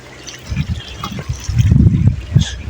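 Cold spring water flowing out of pipes from the rocks in Naran, a steady trickling and splashing that swells louder in bursts, close by.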